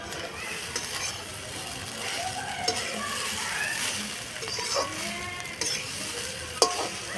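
Prawn hakka noodles being stir-fried in a pan: steady sizzling with scraping, tossing stirs and a few utensil knocks, close by, while a voice talks intermittently.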